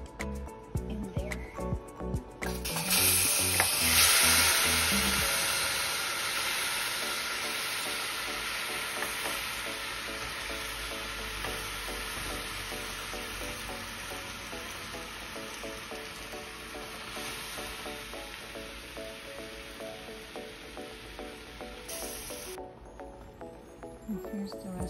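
Strawberries and blueberries tip into a heated pot for jam and then sizzle and bubble under steady stirring, a loud close hiss that fades slowly and carries on for over twenty seconds, with scraping clatter at the start and end.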